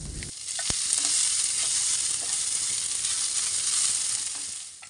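Chopped garlic and dried chillies fry in hot oil, a dense, steady sizzle that holds loud and even from start to finish with no voices over it.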